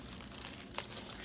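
A paper envelope crinkled and torn open while a luxury package is unboxed, a brief close rustle with one sharp crackle partway through and no talking.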